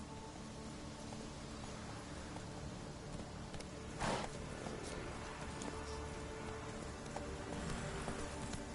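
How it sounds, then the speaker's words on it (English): Horse hooves clip-clop at a steady walking pace in The Witcher 3, faint and even, with one brief louder scuff midway and light ambient noise underneath. "Now where's my trusty steed?"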